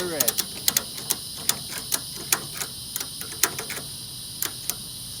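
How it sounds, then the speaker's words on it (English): A ratchet strap is tightened with a run of sharp, close mechanical clicks in an uneven rhythm of about a dozen strokes over a steady background hum. "Now you start ratcheting."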